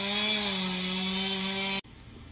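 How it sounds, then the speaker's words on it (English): Chainsaw running at a steady high whine while cutting tree limbs in a front yard, loud and close, cutting off abruptly near the end. "he's bringing a chainsaw"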